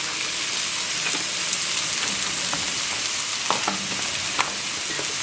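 Meat and chopped onion frying in a pot for an Arabian meat and okra stew, a steady dense sizzle throughout with a few brief stirring clicks, close and continuous with no talking.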